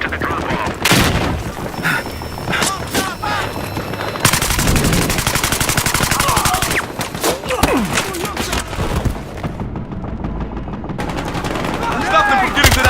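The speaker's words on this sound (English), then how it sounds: "Gunshots at the drop point." Rapid automatic weapon fire and single shots crack through a Battlefield Hardline heist match, loud and near, with bursts and booms repeating across the whole stretch amid game chatter and background effects.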